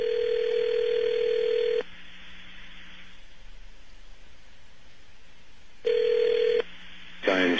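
Telephone line after the caller hangs up: a loud steady tone that cuts off, a stretch of quiet line noise, then the tone returns briefly followed by a short burst of dial tones.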